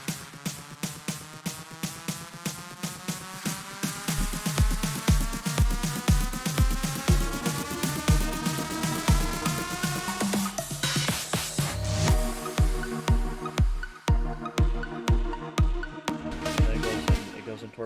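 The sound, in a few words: uplifter riser effect in a build-up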